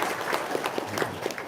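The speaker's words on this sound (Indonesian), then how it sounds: "Tepuk tangan dong" Brief audience clapping at a religious talk, a moderately soft, continuous patter of many hands heard at some distance.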